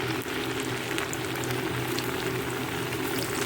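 Snacks fry slowly in hot ghee, giving a dense, even bubbling sizzle that holds steady without a break and with no voices.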